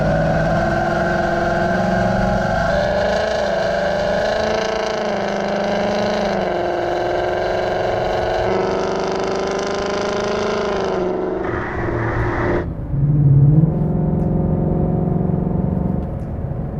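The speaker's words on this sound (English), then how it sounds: "It's pretty crazy how you get 3 distinct tones out of one exhaust system." A loud V8 exhaust from a 2018-2023 Mustang GT with a Corsa 3-inch active cat-back exhaust drones at a constant rumble, then cuts down sharply and goes much quieter near the end, leaving a softer burble.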